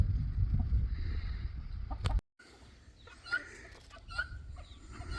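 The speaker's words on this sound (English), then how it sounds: "And there the guineas are, right on the right hand side of that tree." Guinea fowl call in the country with scattered short, harsh chattering cries of moderate loudness, heard after a low rumbling stretch that cuts off abruptly.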